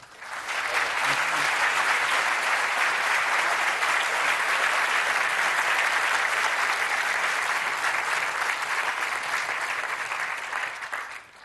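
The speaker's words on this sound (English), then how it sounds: "with that sort of applause" Sustained, steady applause from a lecture audience after a chemistry speaker's introduction, dense and even throughout before tapering at the end, with no voices over it.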